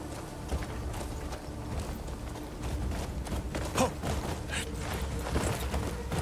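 Horse hooves galloping in the video game Crimson Desert, a steady low drumming of hoofbeats with mechanical clatter, continuous and fairly loud through the whole stretch.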